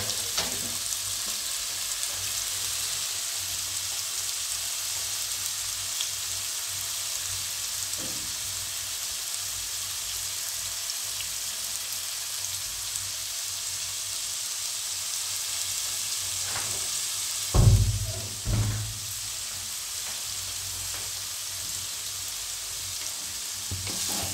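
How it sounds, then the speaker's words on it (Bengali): Pieces of raw jackfruit fry in hot oil in a kadai, giving a steady, close sizzle that holds for a long stretch, with a couple of louder knocks and stirring clatters near the end. "এঁচোড়টাকে আমি তেলেতে ছেড়ে দিলাম, কড়াইতে ছেড়ে দিলাম।"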